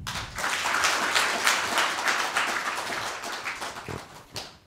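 A hall audience at a spinal cord injury rehabilitation policy forum in the National Assembly gives a round of applause, a steady wash of many clapping hands that thins out toward the end.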